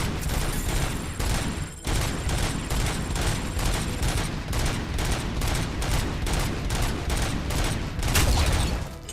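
Dense, sustained gunfire from the RoboCop: Rogue City video game, rapid overlapping shots and bursts that roar loudly and continuously, with no talking.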